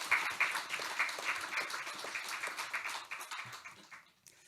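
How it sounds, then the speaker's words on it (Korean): A church congregation at a Korean Sunday worship service applauds, a dense rapid clapping from many hands that holds steady and then thins and fades out near the end. "우리 함께 다시 한번 경외의 박수 하겠습니다."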